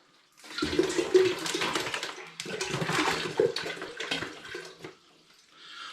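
Spring water splashes and gurgles into a pan for a home-brewed butterscotch imperial stout, a steady close pour of about five seconds that stops abruptly and leaves near silence.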